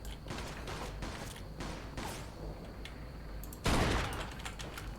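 Gunfire bursts in the Mafia 2 game, Joe's Adventures add-on: several quick clustered shots, then a loud, heavy blast near the end, with mechanical clatter between.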